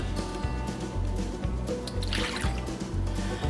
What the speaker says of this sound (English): add our milk